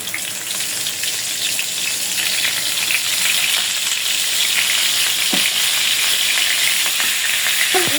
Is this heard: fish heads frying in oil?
yes